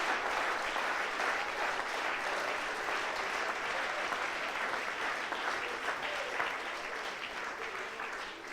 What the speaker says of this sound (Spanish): Dele un aplauso fuerte si es para Dios